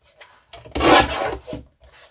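Paper being trimmed for a scrapbook album: short scraping, rasping strokes of a blade or cutter, close by, with one longer cut in the middle and quieter strokes around it.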